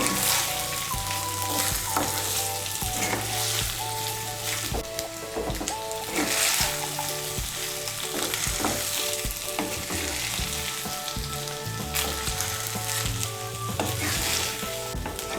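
Cooked rice stirred a little at a time into vegetables and paneer frying in a pan for Bengali paneer fried rice: steady loud sizzle with repeated scraping and clinking of a spatula throughout, no voices.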